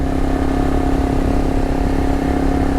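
A KLR 650 motorcycle's engine holds at high speed, a loud, steady droning hum that continues throughout without any change in pitch.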